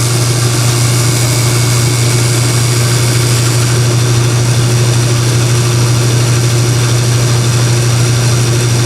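A 6 volt generator spins up on a generator-alternator-starter tester, giving a steady, loud mechanical hum and whir with a strong low drone that holds constant throughout.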